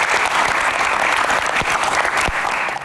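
Loud, dense crowd applause greeting a band at a Q&A fan event, a continuous roar of clapping that holds steady for a few seconds with faint chatter beneath.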